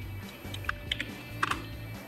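Keys tapped on a computer keyboard during a multiplication-table learning game, a few sharp isolated clicks at close range with no talking, ending in a couple of closer-spaced presses.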